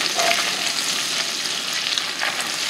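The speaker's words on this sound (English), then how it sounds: "So I'm going to cook the celery" Chopped celery fries in a pan with a steady, close sizzle and crackle, with a few light stirring scrapes over the constant hiss.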